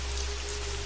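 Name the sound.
rain falling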